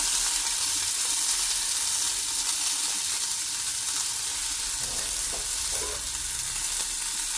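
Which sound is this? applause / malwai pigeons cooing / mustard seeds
mustard seeds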